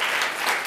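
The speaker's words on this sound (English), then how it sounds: "let's give them a round of applause, because they did a great job." An audience at a funding panel event claps for the winners, a brief, continuous burst of many hands close by with no pause.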